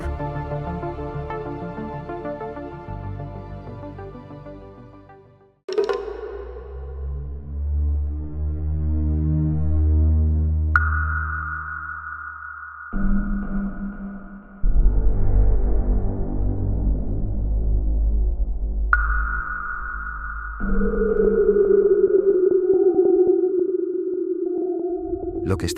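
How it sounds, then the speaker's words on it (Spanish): Raw electromagnetic radiation data recorded by the Cassini spacecraft over Saturn's north pole, rendered as eerie sustained droning tones that shift abruptly in pitch with throbbing low hums and sweeping whistles. "Lo que estás escuchando son datos crudos de radiación electromagnética capturados por la nave espacial Cassini en el polo norte de Saturno."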